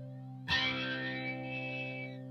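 A guitar chord through an SF400 flanger pedal, a single strummed attack whose ringing notes sweep with a subtle whooshing shimmer as they slowly fade.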